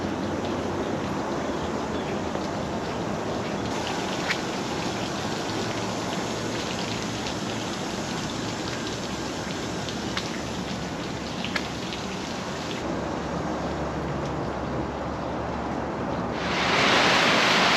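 Heavy rain pours down outdoors in a dense, steady roaring hiss that holds loud and unbroken throughout, with no voices.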